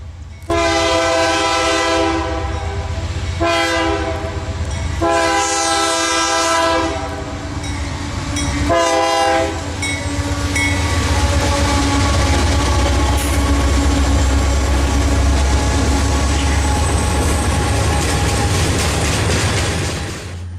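Southbound freight manifest Q441, led by two Union Pacific units and a Norfolk Southern rebuilt AC-44 C6M, rumbles past close by, its horn sounding in three long blasts over heavy continuous engine and wheel noise.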